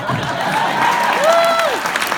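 A crowd at an MLK award ceremony breaks into steady applause, dense and continuous, with a faint whistle rising and falling through the clapping.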